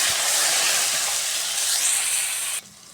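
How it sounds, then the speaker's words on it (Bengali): Cumin seeds sizzle in hot oil with browned onions for a pangas fish and eggplant curry: a loud, close, continuous hissing crackle that drops away sharply near the end. "পেঁয়াজ একটু বাদামি কালার হয়ে আসলে এখানে দিব জিরা ফোড়ন, সামান্য নেড়ে নিব।"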